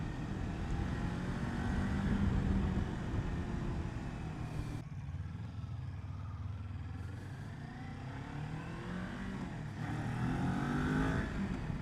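A 2021 Kawasaki motorcycle, a Ninja 400 or Z400, revs hard in second gear with the throttle snapped open. The engine drones loud and steady right at the rider, dips briefly midway, then climbs again.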